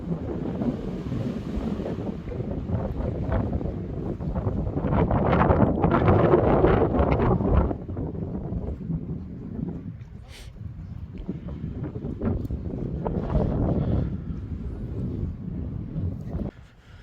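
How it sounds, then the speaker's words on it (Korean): Strong wind batters the microphone on the exposed outer side of Jungri breakwater in Busan, a loud low rumbling buffet that swells in gusts, with surf washing faintly underneath. "역시나 외양 쪽은 아, 바람이 많이 부네요."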